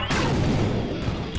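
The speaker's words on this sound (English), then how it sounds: "Lasers!" A single loud blast of laser fire from the video game Iji booms out and decays over about a second, with no voice over it.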